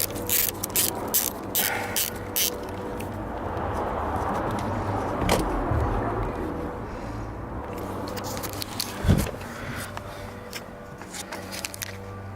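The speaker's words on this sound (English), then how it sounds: "So this bolt is probably going to be on there pretty tight. So let me see if it'll loosen up." Ratchet loosening a tight steering wheel bolt on a 2008-2014 Subaru WRX: repeated close clicking ratchet strokes in short bursts, with a sharp crack as the bolt breaks free and more clicking afterward.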